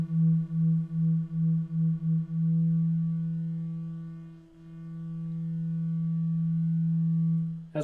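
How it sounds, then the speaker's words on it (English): Two synthesizer oscillators, one a slave oscillator in a hard-sync setup, hold a steady low tone that beats and pulses slowly, then settles into a near-unison drone as the tuning draws close, ending with a brief click. "adjusting the frequency knob on the slave oscillator will allow us to get these two tones very"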